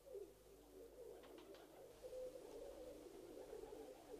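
Pigeons coo softly in a steady low murmur, with a few brief higher calls early on, heard fairly quietly and with no talking.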